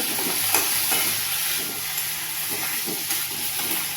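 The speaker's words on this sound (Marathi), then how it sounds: "पावटा टाकल्यावर पण म्हणजे असं चांगलं परतून घ्यायचं चांगलं परतून घ्यायचं" Field beans (pavta) and potato sautéing in hot oil, a steady loud sizzle and hiss with faint stirring scrapes, continuous and close, no voices.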